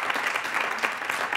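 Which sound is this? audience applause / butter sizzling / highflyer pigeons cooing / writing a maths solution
audience applause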